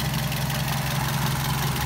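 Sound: car engine idling

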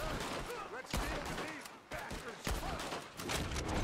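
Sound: gunshots in Red Dead Redemption 2 video game

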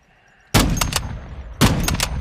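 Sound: gunshots in video game Call of Duty Modern Warfare 2

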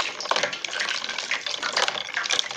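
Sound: coated chicken pieces dipped into iced water

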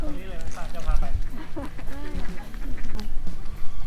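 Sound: duck quacking

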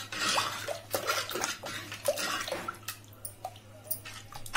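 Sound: water poured into dal rasam

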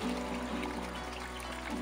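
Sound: spring water pouring from a PVC pipe

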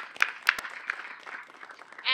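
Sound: audience applause for the speakers

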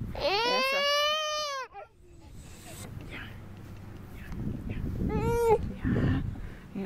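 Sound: dog barking and baby crying

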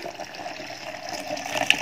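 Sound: remaining water poured into lime juice mixture

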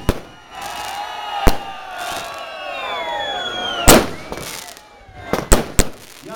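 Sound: fireworks exploding at the Glodeni commune day celebration

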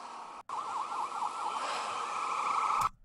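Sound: fire truck siren

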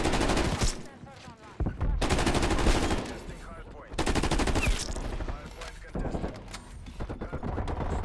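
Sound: GRAV rifle gunfire in video game

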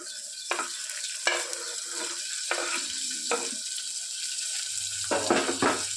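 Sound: chopped tomato pieces added to pan and stirred

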